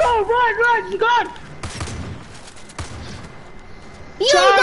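A burst of rapid gunfire in the video game Far Cry 5, a crackling volley lasting about two seconds, set between stretches of frantic, high-pitched shouting voices.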